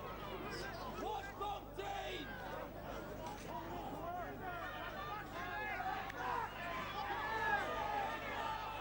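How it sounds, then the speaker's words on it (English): Crowd at a 1989 rugby league match between Featherstone and New Zealand shouting and roaring in a dense, continuous hubbub, with bellowed cries rising and falling and a swell of louder yelling toward the end. "Get off him, say the crowd."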